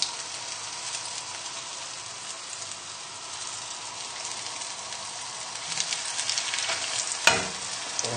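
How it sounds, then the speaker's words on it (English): Spicy salmon fish cakes sizzle steadily in hot oil, a continuous close crackling hiss with brief pops, growing slightly busier toward the end with one sharp clatter. "Pop them onto your slotted spoon and slide them into the oil."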